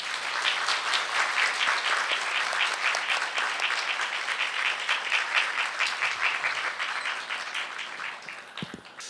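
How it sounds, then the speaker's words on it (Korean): Sustained applause from a lecture audience welcoming a speaker, loud and steady for several seconds, with dense clapping that thins slightly toward the end. "큰 박수로 환영해 주세요."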